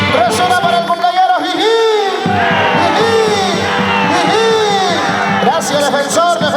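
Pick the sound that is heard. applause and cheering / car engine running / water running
applause and cheering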